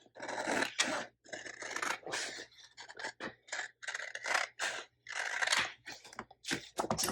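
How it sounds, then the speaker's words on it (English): Scissors slice through Cricut vinyl stencil sheet in long, rasping crunchy strokes, close and steady, each cut a separate burst with brief gaps between. "Took out my scissors and we are just going to cut it."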